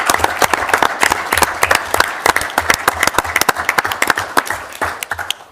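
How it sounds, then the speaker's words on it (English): A crowd at a city council meeting applauds with steady, lively clapping that carries on for several seconds, fairly close and loud. "I think we should give our police officers a round of applause."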